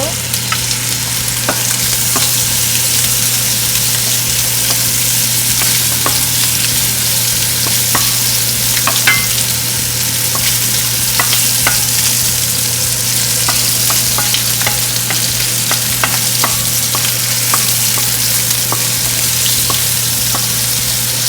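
Pork liver frying in olive oil for an adobo-style dish, a loud, continuous sizzle with scattered pops and crackles and occasional stirring sounds, steady throughout with no voices.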